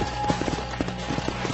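Horse hooves clip-clopping in the video game Red Dead Redemption, a quick irregular run of close hoof thuds over a low steady background rumble.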